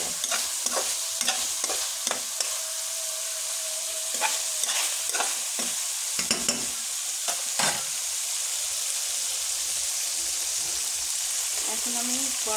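Meat for biryani sizzles steadily in a pot while a spoon repeatedly scrapes and knocks against the metal in irregular stirring strokes, close and continuous.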